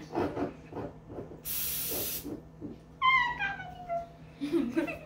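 Cooking spray hissing from a can into a cake pan while baking a funfetti cake, one sharp steady burst under a second, with a voice and talk before and after.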